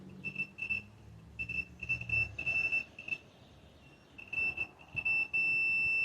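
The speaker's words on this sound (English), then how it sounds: "just going to make sure that our continuity tester is working" A handheld continuity tester used to check wiring on a reverse camera gives a series of short, steady high-pitched electronic beeps in on-off bursts, ending in a longer sustained tone.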